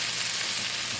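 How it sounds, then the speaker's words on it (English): A steady, bright sizzle of vegetables frying in a hot pan, continuous and close, with no talking. "As the vegetables are sizzling and sauteing together"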